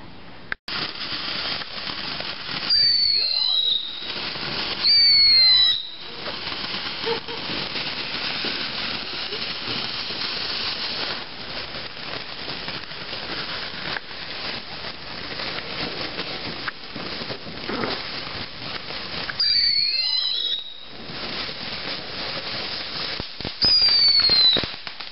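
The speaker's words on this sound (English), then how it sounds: "A small fireworks display was held with many in attendance" A small outdoor fireworks display with a large crowd present: crackling bursts and whistling rockets go off over a steady background of noise, with some rising whistles, for about twenty-five seconds.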